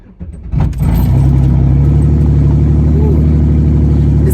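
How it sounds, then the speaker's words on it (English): A loud car engine cranks and catches after a short quiet stretch, then settles into a steady, heavy idle that fills the space close by. "This car's loud."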